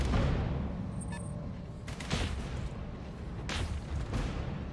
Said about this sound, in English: Sounds like particle cannons.